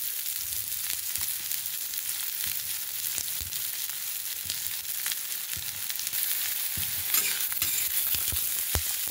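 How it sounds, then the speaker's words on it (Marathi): Onion frying in hot oil for a rustic Solapur-style chilli dish, a steady dense sizzle at close range with occasional stirring knocks and scrapes throughout, no voices. "तेल गरम झालंय आपलं, आपण कांदा टाकूया।"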